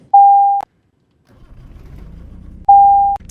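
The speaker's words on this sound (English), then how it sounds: "Let's start the left engine first" The left engine of a light aircraft starting in Microsoft Flight Simulator, a low rumble building steadily after a pause, framed by two sharp, steady electronic tones at the start and near the end.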